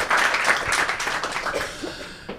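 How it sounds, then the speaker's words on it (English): A startup event audience claps in a brief burst of applause, fairly loud and dense, fading out after about two seconds. "Big round of applause."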